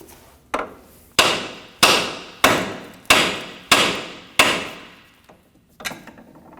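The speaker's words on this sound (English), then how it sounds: "We'll strike the end of the knuckle with a hammer right here" A hammer strikes the end of a steering knuckle on a 1993-2001 Subaru Impreza seven times in a steady rhythm, each loud, close blow ringing briefly before the next, followed by a couple of lighter taps.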